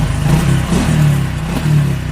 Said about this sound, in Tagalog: Pero umaandar yung motor.